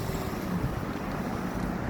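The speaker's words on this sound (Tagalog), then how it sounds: "Oh, ayan oh, hangin." Wind blows steadily across the microphone outdoors in hot weather, a soft continuous rushing rumble with no other clear sounds.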